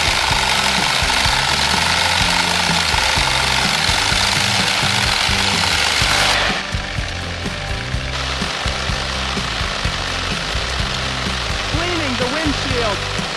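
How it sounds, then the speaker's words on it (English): An old bus engine rumbles steadily with a low, throbbing drone and a rough knocking texture, loud and close, continuing without pause. "This engine sound, this smoke, why does it make me so excited?"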